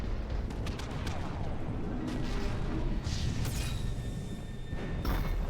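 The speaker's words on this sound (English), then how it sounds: "Can things stop exploding?" Explosions and blasts in the Mass Effect 3 game boom and crackle over a dense, continuous roar of battle, with several sharper bursts toward the end.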